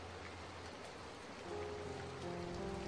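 Rain falling steadily, a continuous even hiss of drops on surfaces that swells slightly louder midway, with a faint low tonal hum underneath.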